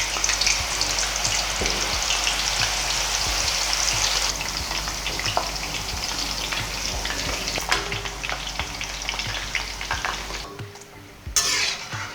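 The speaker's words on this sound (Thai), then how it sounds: "เราจะทอดจนกว่ามันฝรั่งของเรา จะเป็นสีเหลือง ๆ นะคะ" Homemade crispy potato chips deep-frying in a pan of oil, a dense, continuous sizzle with occasional stirring clinks and scrapes, close and steady with no talking.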